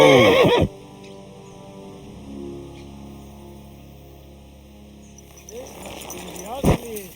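A horse in Kingdom Come Deliverance 2 gives a loud whinny at the start, then the scene goes quieter before a second neigh near the end, with hoof clip-clop and faint birds in the background.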